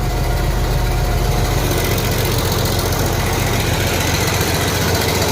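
A White 2-105 tractor diesel engine runs steadily at idle with the PTO engaged, a loud, continuous low rumble and vibration close by with no talking.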